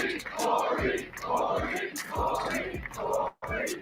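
A rally crowd in Butler, Pennsylvania chants in rhythmic bursts, roughly one call per second, loud and massed with a brief gap near the end.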